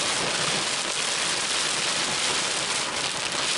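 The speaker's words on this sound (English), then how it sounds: "We are in a storm." Heavy rain pours during a storm in Florida, a dense, steady hiss of drops drumming on surfaces close by, with no voices.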